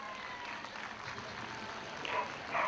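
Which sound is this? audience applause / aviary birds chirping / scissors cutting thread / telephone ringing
audience applause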